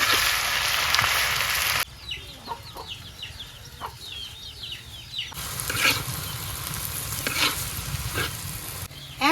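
Jute leaves with salt and green chili fry in a pan: a steady, loud sizzle with stirring, while a rooster and chickens cluck nearby in a village setting.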